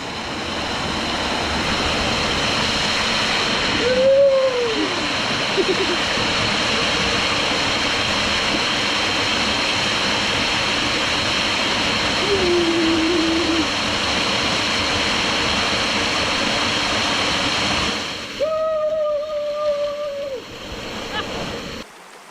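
Steady roar of waterfall water on Rote Island, continuous and fairly loud throughout while someone rinses off soap beneath it, with a few brief vocal hoots breaking through.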